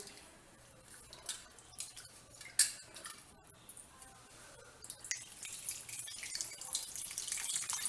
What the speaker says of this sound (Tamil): மூணு கப் தண்ணி ஊற்றியிருக்கேன்.